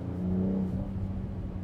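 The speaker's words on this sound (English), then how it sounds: "I can hear the burbles there, but they are muted significantly" A 2024 BMW X4 M40i revving around 3,500 RPM, giving a steady, close low engine drone with muted exhaust burbles underneath and no talking.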